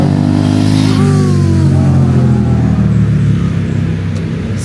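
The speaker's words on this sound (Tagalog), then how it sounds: "Ayun, mga big bike oh." Loud engine drone with a rising rev partway through, like big motorcycles revving nearby, steady and continuous throughout.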